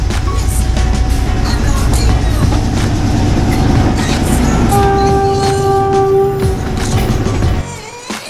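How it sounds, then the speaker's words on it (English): A loud train rumbles past on the tracks in Sri Lanka with rhythmic clattering, a sustained horn blast sounding midway before the noise drops off at the end. "the trains are pretty slow and pretty loud,"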